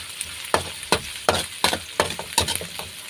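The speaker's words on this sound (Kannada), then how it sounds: "ಇನ್ನು ಈ ಕಡೆ ಈರುಳ್ಳಿ ಮೆಣಸಿನ್ಕಾಯಿ ಮತ್ತು ಬೆಳ್ಳುಳ್ಳಿನ ಹಾಕ್ಕೊಂಡಿದ್ನಲ್ಲ ಒಗ್ಗರಣೆನ ಮಾಡ್ಕೊತಾ ಇದ್ದೀನಿ" Onion, green chili and garlic fry in a hot tempering while a spatula stirs them, giving crackling sizzle with a run of sharp, rhythmic scraping clacks close by.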